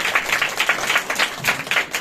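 An audience at a religious gathering claps together in a quick, fairly even rhythm, a dense, lively patter of hands that carries on steadily from start to finish.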